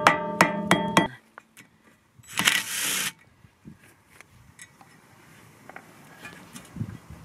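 A hammer strikes a rear brake part on a Mk7 Volkswagen Golf R with an electronic parking brake, giving four sharp, loud metallic blows in quick succession, then a harsher burst and scattered quieter clinks in a garage.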